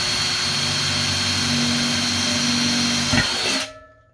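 A power drill boring holes into a mini keg speaker, a steady loud whine with a brief bump in strain near the end before the motor winds down and stops.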